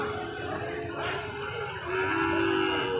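Buffalo calves lowing at the busy Panchbibi livestock market, a drawn-out moo rising over crowd murmur and background chatter.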